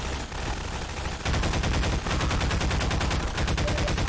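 Pistol and rifle fire in a first-person shooter game map, rapid repeated shots crackling in dense bursts, loud and continuous with a brief pause, no voices over it.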